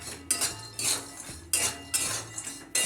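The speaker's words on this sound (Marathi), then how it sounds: "हे पण नुसतं हलवून घेऊया, याच्यामध्ये मिक्स करून घेऊया लाल तिखट आणि मीठ" A spoon scrapes and clinks against a pan while red chili powder and salt are stirred into Solapuri peanut chutney, several distinct strokes in an irregular rhythm, close and moderately loud with no talking.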